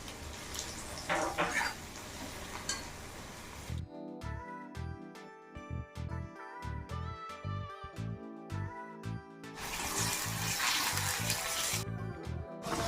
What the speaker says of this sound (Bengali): মাছের ঝোলটা জল টল দিয়ে মাছগুলো দিয়ে দিয়েছি, একটু ফুটতে থাকুক